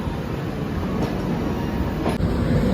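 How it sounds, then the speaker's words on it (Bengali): A Rajdhani Express rolls into a station platform, producing a steady, loud rumble of wheels and carriages that holds throughout with a brief sharper rattle near the end. "এই রাজধানী ঢুকছে।"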